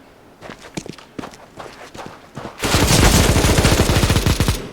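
Gunfire in the video game CS:GO: quiet footsteps come first, then a loud, close, rapid burst of automatic fire rattles on for about two seconds.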